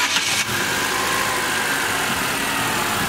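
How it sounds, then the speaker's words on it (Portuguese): A Chevrolet Prisma 1.0 or 1.4 fitted with a conical sport intake filter settles into a steady idle after a short start burst at the beginning, close and continuous with no talking. "Aí eu vou mandar ele ligar o carro agora"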